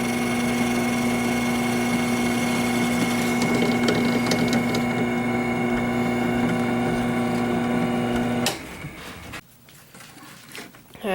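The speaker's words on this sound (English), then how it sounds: "right now we're having Charlie drill a couple of holes here" Power drill boring a couple of holes into a pallet wood sign, a steady loud motor whine with a strong constant tone running for about eight seconds, then cutting off abruptly into quieter rustling.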